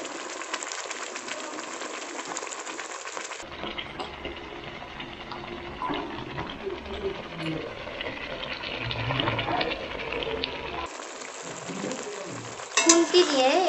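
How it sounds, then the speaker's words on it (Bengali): Chicken leg pieces go into hot oil in a pan, setting off a loud, steady sizzle and frying crackle with stirring scrapes, between quieter stretches at the start and end. "এবারে এর মধ্যে আমি চিকেনের পিসগুলোকে তুলে দেব।"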